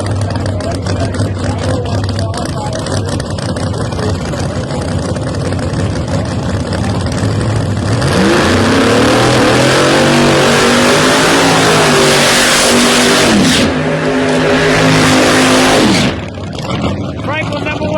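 Drag race cars at a Pro Nitrous, Pro Boost and Pro Street elimination round, loud engines idling and then revving up with rising, roaring pitch, heard close over steady rumble while an announcer talks.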